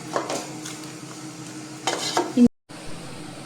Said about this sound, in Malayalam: നല്ല പോലെ അങ്ങോട്ട് ഇളക്കി കൊടുക്കുക.